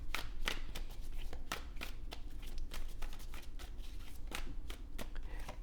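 Tarot cards are shuffled to draw a clarifier card in a steady stream of close, crisp riffling flicks that continue without pause at moderate volume, with no voice heard.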